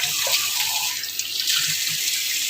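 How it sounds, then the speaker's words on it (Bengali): Tap water runs steadily into a sink as someone washes their face to cool off on a hot day, a close, continuous splashing hiss. "একটু মুখটা ধুয়ে নিলাম।"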